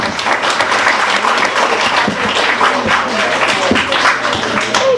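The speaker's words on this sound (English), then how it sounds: "Let's please give a warm round of applause to Planaria Price." A room full of listeners claps steadily at a book reading, dense and sustained applause that holds at a fairly loud, even level throughout.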